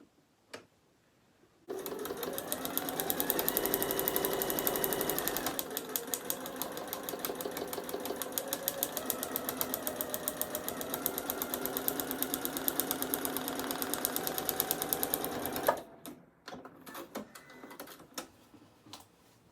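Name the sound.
sewing machine stitching a paper pieced Christmas star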